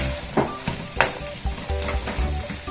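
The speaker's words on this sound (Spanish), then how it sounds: "Agregamos los granos de elote. Mezclamos bien." Corn kernels are stirred in a hot pan, giving a continuous sizzle broken by several sharp scraping clicks of the spoon across the surface.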